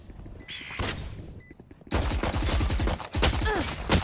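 Rapid gunfire bursts in Valorant during a VCT Ascension Pacific semi-final match, loud clustered shots with game effects, a short quieter gap before a dense volley.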